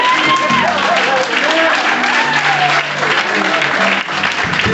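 An audience at a magic show applauds loudly and steadily in a dense wash of clapping, with voices audible underneath throughout.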